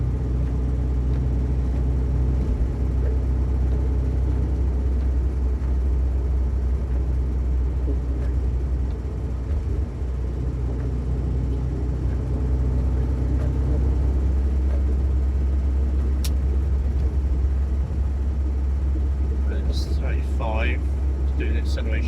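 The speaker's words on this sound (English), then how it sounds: "Doing an acceleration test." A Morris Minor drives on the road, its engine holding a steady, low droning hum from inside the car that stays fairly even throughout, with a faint murmur of sound over it.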